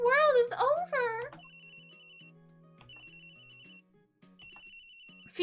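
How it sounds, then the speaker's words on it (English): A phone rings in the Phoenix Wright: Ace Attorney video game, a repeating electronic ringtone melody of steady beeping tones that plays on, broken by brief pauses. A voice speaks briefly over the opening. "you gotta change the phone ring"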